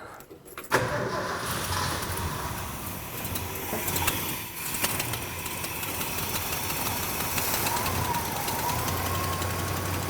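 A Ford F-100 pickup, revived after sitting in a field for years, cranks and catches, then runs at a steady, slightly rough idle, close and continuous.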